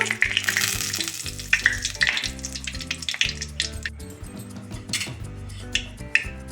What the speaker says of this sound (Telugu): ముందుగా ఒక ప్యాన్ పెట్టుకొని కొంచెం ఆయిల్ వేసుకోవాలి ఆయిల్ కొంచెం ఎక్కువగానే పడుతుంది ఇందులో ముందుగా చెక్క లవంగాలు వేసుకోవాలి బిర్యానీ ఆకు